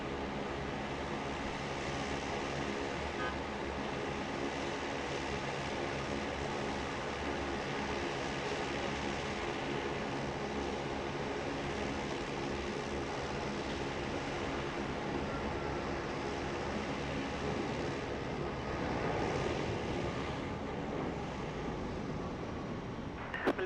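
An airliner on Philippine flight 211 lands on runway 34 left at Sydney Airport: a steady, broad engine roar holds throughout at moderate loudness, swelling slightly near the end as the jet passes.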